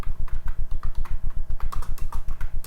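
Fast, even typing of code on a computer keyboard, close and crisp, with keystrokes arriving in a steady rapid rhythm and no voices.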